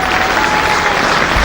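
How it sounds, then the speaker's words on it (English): Crowd applause at a 1990 Test cricket match in New Zealand, hailing 16-year-old Sachin Tendulkar's half-century: a steady, dense wash of clapping from a large crowd, sustained throughout without breaks. "Applause ringing out for Sachin Tendulkar, his 3rd half-century in Test cricket"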